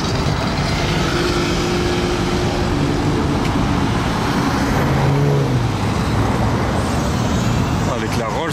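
Ferrari supercar moving through Paris traffic, a continuous roadway rumble of engines and passing vehicles with no single standout engine note, close and steady throughout.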